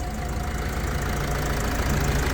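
A 2009 Mercedes Vito 111 van engine idling close by, a low continuous rumble with a faint rhythmic knock and no pauses throughout.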